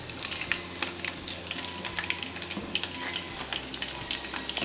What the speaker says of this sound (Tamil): இதே போல் இருக்கிற எல்லா மஷ்ரூமை நம்ம ஃப்ரை பண்ணி எடுத்துக்கலாம்